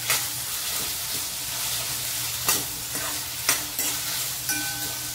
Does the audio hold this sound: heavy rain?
no